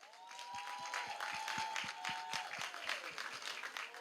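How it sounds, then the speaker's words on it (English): Crowd applauding student athletes at the finals of a Tobago primary schools 3K road race, steady clapping with a distinct nearby clapper keeping a regular beat, a sustained whistle-like tone running through, no speech. "give to our athletes, our students, a resounding round of applause"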